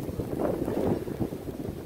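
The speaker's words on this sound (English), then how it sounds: "So the wind's blowing about 35 miles an hour." Strong wind at about 35 mph buffets the microphone outdoors on a snowy driveway, giving a low, rumbling, gusty roar throughout the short moment.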